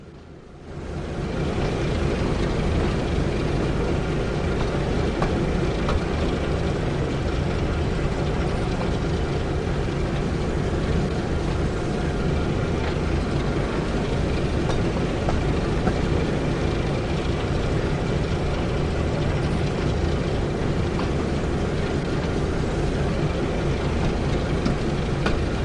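A Hunslet Austerity tank engine running on the West Somerset Railway in Train Sim World 5: a steady, loud, dense rumble that holds for the whole stretch without a break, with no voices.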